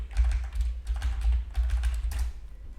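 Rapid bursts of keystrokes on a computer keyboard as a US zip code is entered, close and crisp over a low rumble, with short pauses between clusters.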